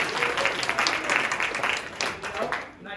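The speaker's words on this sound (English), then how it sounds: "Let's give them a round of applause." Audience applause at an improv holiday show, a steady wash of many hands clapping at once, fairly loud and sustained, fading slightly near the end.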